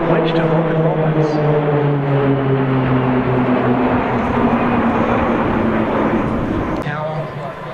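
Roulettes aerobatic team aircraft fly at the RAAF Pearce airshow, their steady propeller drone holding throughout with a falling engine tone, while a commentator talks over it.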